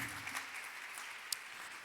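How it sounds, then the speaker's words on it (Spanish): A church congregation applauds, a brief steady patter of many hands that stays fairly soft with one sharper clap near the end. "¿Le puedes dar un aplauso al Señor?"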